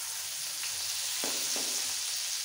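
Black mustard seeds, a pinch of hing and grated ginger sizzle in hot oil in a pan, giving a steady hiss with a few brief sputters and no voices.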